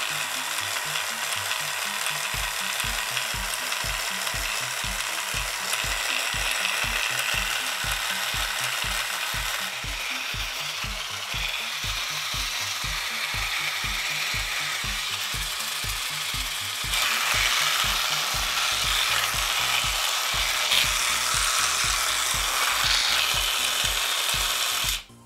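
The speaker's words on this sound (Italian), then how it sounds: "facciamo girare un po' il motore per vedere se ha qualche problema o no." The printer motor mechanism of an old Olivetti P6040 computer runs continuously with rapid, regular clicking and ratcheting, close up, its whirring tone shifting slightly partway through.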